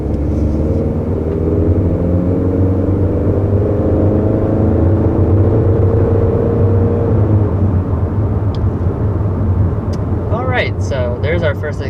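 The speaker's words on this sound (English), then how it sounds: "So there's our first acceleration, up to about 60 miles an hour with this 2021 Honda Accord." A 2021 Honda Accord Sport SE accelerates to about 60 mph, its engine rising in a steady rumble under continuous road and tire noise, with a voice talking over it near the end.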